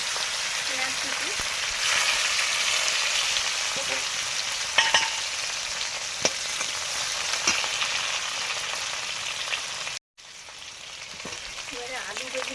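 Chopped onion fries in hot oil with dried red chillies and panch phoron, giving a loud continuous sizzle with light stirring scrapes, briefly cut off near the end before resuming.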